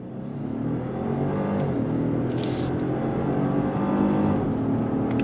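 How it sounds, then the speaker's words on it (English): A 2023 Genesis G90 luxury sedan pulls away hard from a standstill, its engine note swelling into a strong, steady whir and roar heard from inside the car, sustained and fairly loud. "And we're gonna go on throttle here"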